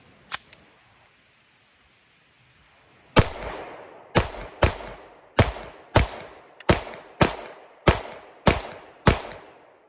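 Staccato C2 pistol fired at a shooting range: two faint early clicks, then a loud, evenly spaced string of about eleven sharp gunshots, each with a short echoing tail.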